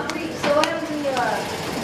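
An antique Singer sewing machine runs inside a fan museum with a close mechanical clatter of ratcheting ticks and gear noise, while people talk over it.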